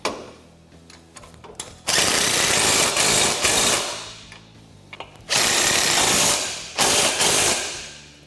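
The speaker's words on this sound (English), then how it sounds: "we're going to go through and fully tighten all of the bolts securing the knuckle to the trailing arm" A power tool tightens the knuckle bolts to the trailing arm on a Polaris RZR XP 1000, giving loud, close bursts of whirring and rattling. They come in three separate runs of about one to two seconds, with quieter clicks between them.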